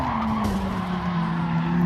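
Race car tyres skid and squeal under late, hard braking into a corner in Gran Turismo 7, a loud close screech over engine drone lasting under two seconds, no talk.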